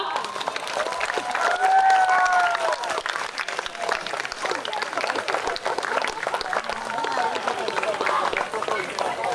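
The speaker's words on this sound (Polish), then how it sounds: "prosimy jeszcze raz o brawa." Outdoor audience at a Lemko folk ensemble performance in Michałów, 2015, applauding in a steady, dense, loud wash of clapping with a crowd murmur, sustained throughout.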